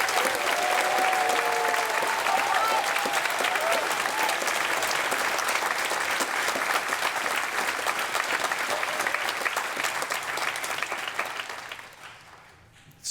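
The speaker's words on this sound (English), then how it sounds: "Could you please give a warm round of applause to our many colleagues" Sustained warm applause from a large audience at a midyear completion ceremony, dense and even clapping that holds steady for several seconds before tapering off near the end.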